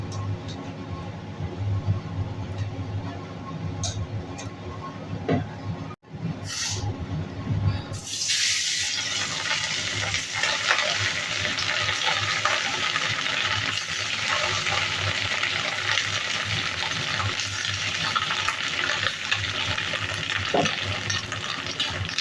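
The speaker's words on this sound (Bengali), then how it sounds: "মাছের ডিমগুলো হালকা করে ভেজে উল্টিয়ে নিয়ে তুলে নেব।" Pieces of katla fish roe hit hot oil in a wok and start frying, a brief pause giving way to a steady, loud hissing sizzle that carries on without talk.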